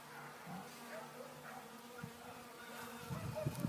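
Faint, steady droning hum of honey bees buzzing in a hive, with soft bumps and rustles near the end.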